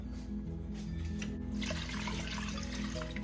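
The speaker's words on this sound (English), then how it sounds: "gonna add some more water to that." Water poured into a pot of palabok sauce for Malabon-style pancit luglug, a steady broadband rush of liquid that grows fuller midway, close and continuous over low kitchen hum.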